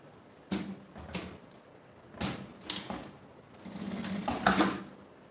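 A sewing machine stitches fabric for a pochete bag in short, close bursts of mechanical whirring, separated by brief pauses, with a longer run at the end.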